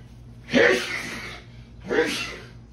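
Two sneezes from a person cooking oxtails seasoned with a new spice blend, a sharp close burst followed by a second, softer one about a second and a half later.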